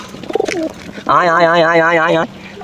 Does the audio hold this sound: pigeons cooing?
yes